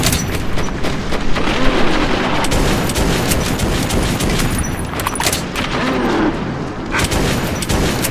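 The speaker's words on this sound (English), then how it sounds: "So they're shooting the ones that are climbing up." Sustained gunfire in Metro 2033, defenders firing on mutants climbing up, loud continuous bursts of rapid shots with heavy booms layered in for several seconds, no talk.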